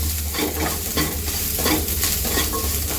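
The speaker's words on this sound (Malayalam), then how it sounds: "നമുക്കിതിലേക്ക് ചുവന്നുള്ളി, കറിവേപ്പില, ഉള്ളി, തേങ്ങ, കറിവേപ്പില എല്ലാം ചേർത്ത് നമുക്കിതൊന്ന് മാറ്റി ചേർക്കാം." Shallots, curry leaves, onion and grated coconut frying together in a pan for a lunch dish, a loud continuous sizzle with repeated stirring scrapes in a loose rhythm, close up and without voices.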